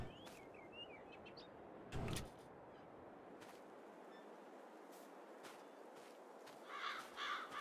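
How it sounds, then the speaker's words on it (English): Crows cawing in a Farming Simulator 22 garden farm scene, a few harsh calls spaced out over quiet ambience, with a sharp bang early and a cluster of brighter bird calls near the end. "Get out of here, birds."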